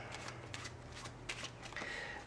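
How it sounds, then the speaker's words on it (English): A deck of playing cards is riffle shuffled close up, giving soft quick fluttering bursts of snapping cards, quiet and with no talk. "We'll even give them a quick riffle shuffle."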